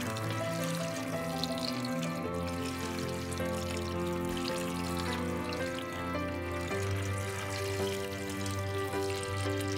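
Cooking liquid is poured over a pot roast in a pot, giving a steady, continuous trickling and splashing pour that runs close and clear for the whole stretch, with no talking.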